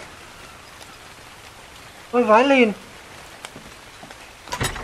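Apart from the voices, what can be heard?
rain falling in video game ARK Crystal Isles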